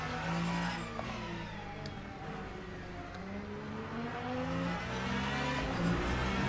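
Ferrari sports car in a racing video game, a steady engine drone rising and falling as it revs through gears, moderately quiet and continuous, with faint tire noise and no talking.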